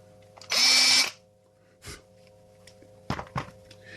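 A power drill bores through a plastic game controller shell for a custom trigger build, one loud half-second burst of whirring followed by a few short thumps and handling knocks in a quiet room.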